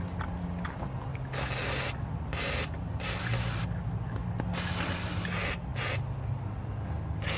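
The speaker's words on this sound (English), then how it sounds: "So I'm gonna hose everything down in there with WD-40." WD-40 sprayed into a corroded aluminum knock-sensor housing on a Nissan Maxima engine, a series of close, loud hissing bursts of varying length separated by short pauses.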